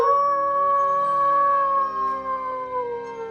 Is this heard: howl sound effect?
yes